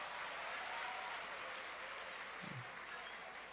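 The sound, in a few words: audience clapping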